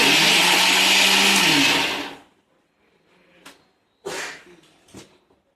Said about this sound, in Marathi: नंतर मिक्सरमध्ये